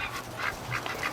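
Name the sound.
ducks quacking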